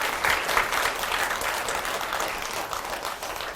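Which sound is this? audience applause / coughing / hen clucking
audience applause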